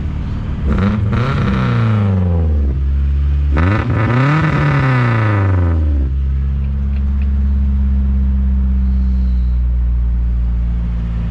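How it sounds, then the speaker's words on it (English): A car engine revs hard twice in quick succession, each rev climbing and falling, then settles into a deep, steady rumbling idle. "that's my exhaust on this thing"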